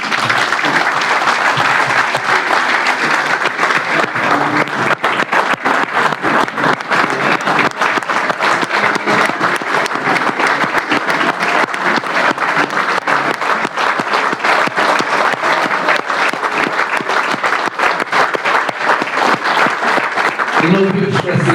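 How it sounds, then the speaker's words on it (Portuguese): A dinner audience at a club on the Ilha do Sol gives a long, dense round of applause in tribute, loud and unbroken throughout, with faint murmuring voices mixed in. "salva de palmas."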